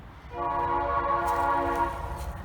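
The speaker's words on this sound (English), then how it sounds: "And a train's going by." A passing train sounds a long, steady horn blast of about two seconds over a low rumble, heard near an old pioneer laneway in a forest.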